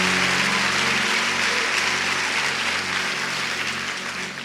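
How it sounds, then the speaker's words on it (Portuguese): Steady applause from a church congregation during a sermon, a dense wash of clapping holding for several seconds and easing slightly toward the end. "Pode aplaudir a Jesus por isso,"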